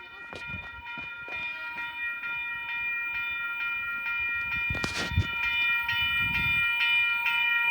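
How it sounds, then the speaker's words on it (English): An Oscar H-set passenger train passes a station platform, its wheels clattering and rumbling steadily as it rolls through, with a sharp burst of noise midway and a growing, close roar toward the end. "there's a train coming, I don't know which one, but I believe it's coming passing platform number 2"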